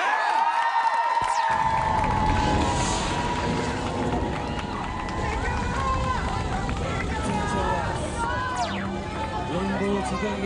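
A studio audience at a televised magic show roars with cheering and applause, a dense continuous crowd din with music and voices mixed in, loud and sustained throughout.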